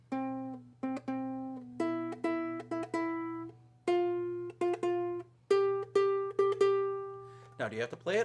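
Baritone ukulele picking a song's riff as a string of clear plucked single notes in a bouncy rhythm, close and alone over a faint hum, with a brief strum at the end.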